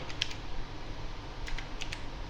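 A few quick keystrokes on a computer keyboard, typing a word into a settings field of Sony Vegas editing software, faint clicks over a steady low background hum with no voice.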